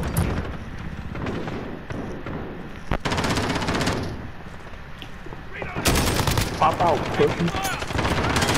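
Gunfire from the Warzone video game in a large team deathmatch: rapid automatic bursts and sharp single shots crackle throughout, loud and close at times and more distant at others. Players talk over the shooting.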